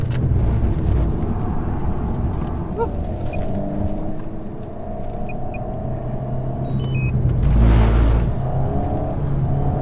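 An Alpine A110 sports car is driven hard and slid on a circuit, its engine droning and rising and falling under load, with a heavy rumbling swell near the end.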